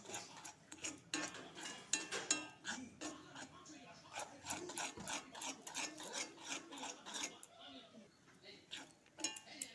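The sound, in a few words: stirring chickpea laddu mixture with sugar syrup in a pan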